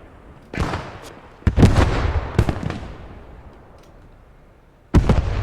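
Mortar shells burst one after another in a war video game, booming heavy thuds at irregular intervals with some decay between them and a loud impact at the end.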